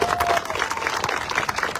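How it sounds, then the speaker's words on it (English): Brief crowd applause at an outdoor park grand opening and ribbon cutting, honoring a family, a close, busy patter of clapping with some voices mixed in. "if y'all can give them a round of applause"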